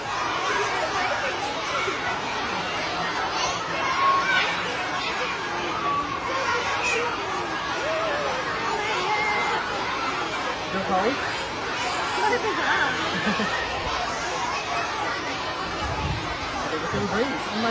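A crowd of people stands around watching and chatting at an outdoor gathering, a steady dense murmur of overlapping adult and children's voices with occasional laughter throughout.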